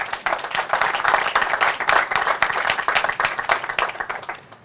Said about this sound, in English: I'd like you to please give him a round of applause